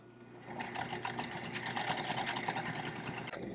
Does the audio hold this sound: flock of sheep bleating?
no